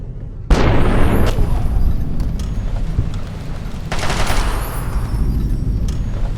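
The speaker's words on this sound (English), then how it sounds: "Grenade!" A grenade goes off in Fallout: New Vegas with a sudden loud blast that spreads into a rumbling, crackling roar, followed by another burst of heavy noise a few seconds later amid ongoing combat.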